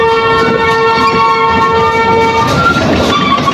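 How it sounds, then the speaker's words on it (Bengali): An amusement park ride train at Fantasy Kingdom rumbles along loudly while a sustained horn-like tone sounds over the running noise for most of the stretch. "ট্রেন দিয়ে একটা পাক দিলাম"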